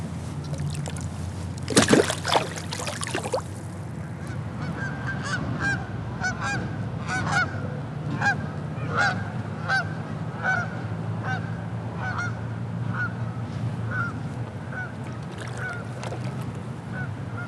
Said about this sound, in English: there's probably about 200-300 geese all gathered up right in the middle here.